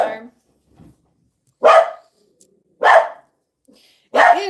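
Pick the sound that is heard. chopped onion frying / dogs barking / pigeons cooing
dogs barking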